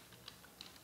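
Faint, quick typing on a computer keyboard while entering data in an Excel VBA spreadsheet, a few soft clicks scattered over under a second against a steady background hiss.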